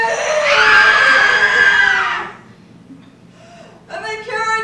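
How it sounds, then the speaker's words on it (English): A loud, sustained scream from the middle of a roaring crowd in a staged dramatic reading, lasting about two seconds before dropping away into quiet, then returning briefly as a fainter second cry. "from the center of this crowd came a scream!"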